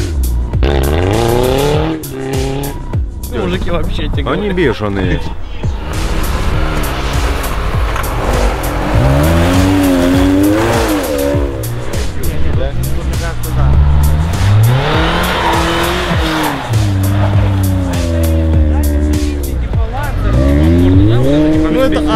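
A VAZ 2107 4x4, VW Touareg, Toyota Prado and G-Class race rally-style off-road, with engines revving hard, rising and falling, and tires squealing, while people talk excitedly over the noise throughout.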